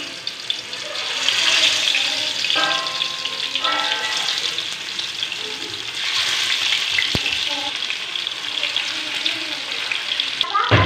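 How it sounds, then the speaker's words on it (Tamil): Fish fillets frying in hot oil on a tawa, a continuous close sizzle with crackling spurts, some clinks of a utensil and brief kitchen clatter, no one speaking. "ஸோ தவா சூடானதும் எண்ணெய் சூடானதும் ஒவ்வொரு மீனாக போட்டு பொரிச்சு எடுத்துக்கலாம்"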